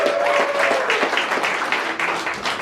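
A comedy club audience applauds a stand-up comedian with a dense, steady round of clapping that holds at full strength throughout, with a faint whistle near the start.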